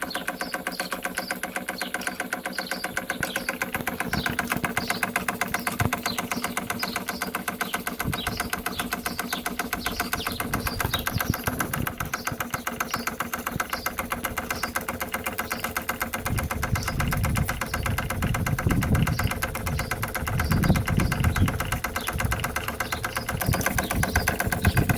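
A pre-WW2 Doll et Cie stationary steam engine from Nuremberg runs with a fast, even mechanical chuffing and clatter, steady and close, with a heavier low rumble joining near the end.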